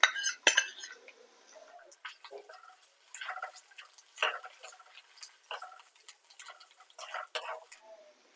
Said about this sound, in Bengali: এবার আদা রসুন বাটা দিয়ে দেবো।